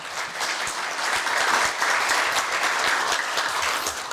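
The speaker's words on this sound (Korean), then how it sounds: "큰 박수 부탁드리겠습니다" Applause at a Korea University staff retirement ceremony during a flower presentation and commemorative photo, sustained crowd clapping that swells slightly and stays steady for about four seconds.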